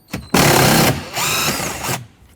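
Power driver spinning out an 8mm bolt inside a 2009-2014 Ford F-150 rear door, two close, loud whirring bursts of under a second each, the first sharper and the second slightly lower.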